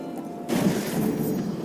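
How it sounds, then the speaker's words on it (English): Thunder strike in the video game Hades, heard as a sudden loud crash that swells into a broad rumbling roar and sustains for over a second. "Thunder time."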